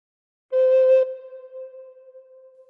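A single recorder note, clear and steady, blown once and held briefly before settling into a softer sustained tone that fades out.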